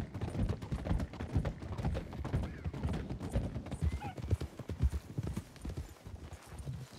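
Horse hooves clip-clop steadily through a WildRP (RedM) game scene, a dense run of near, moderately loud footfalls with a brief whinny partway through.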